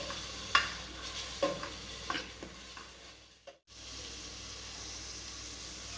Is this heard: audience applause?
no